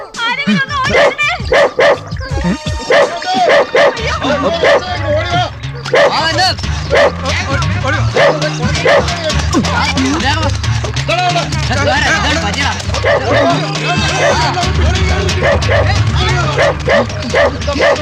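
A dog barks and yips repeatedly in a Malayalam film scene, loud sharp barks and whimpers in quick succession, mixed with shouting voices and background commotion throughout.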